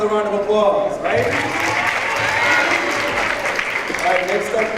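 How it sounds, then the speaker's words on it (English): An audience at a high school Black History program breaks into applause that swells after a speaking voice, then carries on under further talk before fading. "All right, let's get up with another round of applause"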